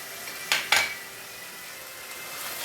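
Spoon knocking twice against a pan while Schezwan sauce and tomato ketchup are mixed in for a bread dish, two quick close clinks over a quiet background, no talking.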